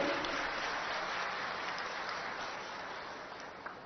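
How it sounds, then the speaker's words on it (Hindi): Audience applause for Dhami ji at a park inauguration, a steady wash of clapping from a crowd that holds evenly and then slowly thins toward the end. "मैं चाहूंगा एक बार जोरदार ताली धामी जी के बजाएंगे।"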